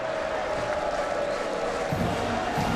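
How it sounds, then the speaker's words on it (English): A raucous football crowd at Michigan Stadium, the Big House, during a Michigan versus Wisconsin game, a steady loud roar of many voices with a few sharp bursts near the end. "A raucous crowd here at the Big House."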